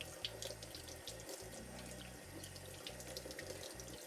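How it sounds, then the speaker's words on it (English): A kitchen tap runs steadily into a sink, a continuous close splashing hiss with no talking. "I'm gonna just run a little water, make the process go a little faster."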